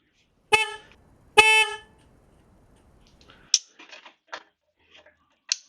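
An upgraded horn on a BMW R1200GS motorcycle sounds in two short, loud blasts, the second slightly longer, followed by faint clicks and tool noises.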